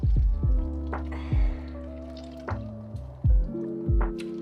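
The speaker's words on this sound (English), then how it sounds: "just taking them and literally just like wringing them out, trying to get as much water as we can." Wet paper towels wrung out by hand, giving a series of squishy, dripping squeezes with trickling water, close and fairly loud, several distinct bursts spaced about a second apart with no talking.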